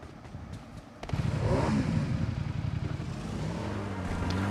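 A motorcycle in the mobile game PUBG Mobile revs up as riding begins, its engine rising from a quieter idle to a steady, close drone that holds for several seconds.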